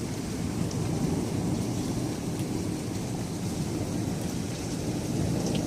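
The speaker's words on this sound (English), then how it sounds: "First hailstorm of 2018 for our area." A hailstorm with heavy rain pours down in a steady, dense roar, with low thunder rumbling underneath throughout and faint scattered ticks of hits on surfaces.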